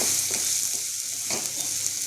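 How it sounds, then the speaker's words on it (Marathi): Onion frying in oil in a pan, stirred until it turns reddish, giving a loud continuous sizzle with repeated scraping stir strokes at close range. "कांदा चांगला थोडा लाल होईपर्यंत परतून घेऊया."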